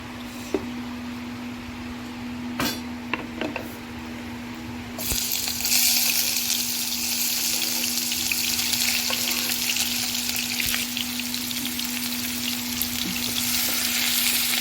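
Oil heats in a pan on a stove for chicken fry. A quiet hiss with a few light clinks turns into a loud, steady sizzle about five seconds in, and the frying continues close and unbroken to the end.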